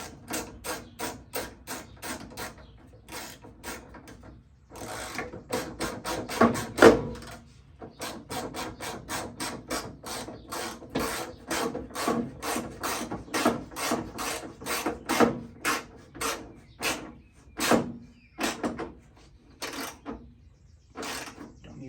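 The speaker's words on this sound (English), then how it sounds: "need your 3/8 ratchet and your 11mm socket" A 3/8-inch ratchet with an 11mm socket tightens a bolt into the vent window frame of a Ford Bronco II or Ranger. It gives rapid bursts of crisp clicking in repeated strokes with brief pauses, close and clear and without talk.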